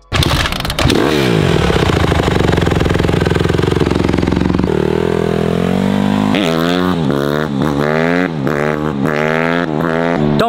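A 2021 Honda CRF150R dirt bike engine revs loud and close, holding a high buzzing pitch, then dropping and climbing again through repeated throttle bursts as the rider pulls away.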